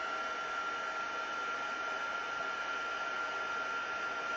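Heat tool melting embossing powder on a card-making snow scene, a steady, moderately quiet whooshing blower hum that holds evenly throughout, with no voices.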